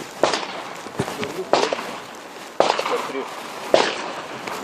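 Four sharp, loud gunshots ring out at intervals of about a second at an IDPA shooting match in Lithuania, each with a short echo, while people talk nearby.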